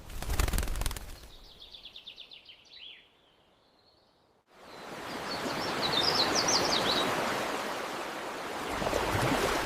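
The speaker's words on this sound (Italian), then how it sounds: "l'uccello," A bird in the woods gives quick chirping calls, a short burst early on and a clearer run of tweets later, set against steady rushing outdoor ambience.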